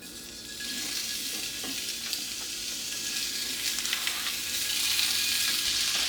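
Sausage goes into olive oil in a cast iron skillet, with garlic and cumin, and sizzles loudly; the frying grows a little after it starts, with light stirring scrapes and no voices.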